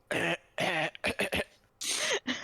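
Someone coughing and clearing their throat in a deliberate patterned sequence of short, close bursts separated by brief gaps, like a coded signal.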